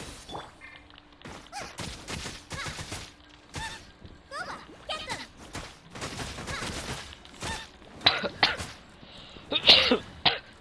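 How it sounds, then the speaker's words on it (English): Several sharp, harsh coughs in bursts, mixed with talking and clattering Genshin Impact game noises, getting louder toward the end. "I'm coughing too much."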